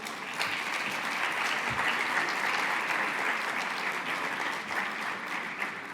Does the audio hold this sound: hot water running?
no